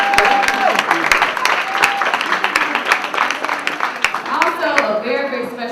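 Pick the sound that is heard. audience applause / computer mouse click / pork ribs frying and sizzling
audience applause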